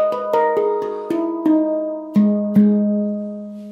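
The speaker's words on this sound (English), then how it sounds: "So now you'll get more of like a clay pot kind of ceramic sound," A nitrided steel handpan struck about seven times, each clear tone ringing out with a short, dry, ceramic-like sustain that fades quickly, played alone.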